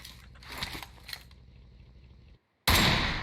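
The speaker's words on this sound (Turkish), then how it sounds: "Önümde de zaten şu an silah sesleri geliyor." Rapid bursts of video game gunfire crackle, then a tonal hum drops to silence before a loud, sudden noise burst cuts in.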